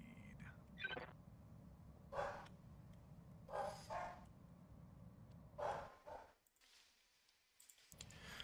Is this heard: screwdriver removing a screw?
no